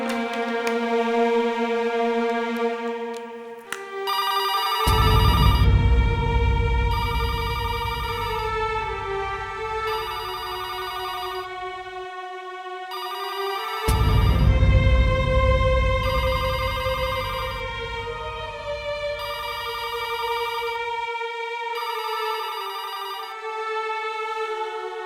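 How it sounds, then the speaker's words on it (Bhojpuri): A telephone rings unanswered in a Bhojpuri TV serial, its electronic ringtone repeating in a patterned melody for about twenty-five seconds over a deep low rumbling backdrop, with no one speaking. "रिंग तो होवता पर कोई उठवते नहीं खे।"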